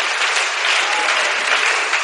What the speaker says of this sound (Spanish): Dale ese aplauso al Señor en esta hora.